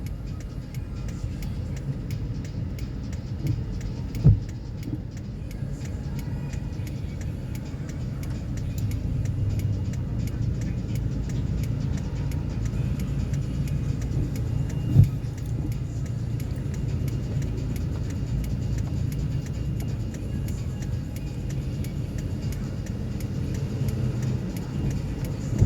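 Heavy road traffic in rain, a continuous low rumble of car and bus engines close by, with a couple of brief thumps and no talking.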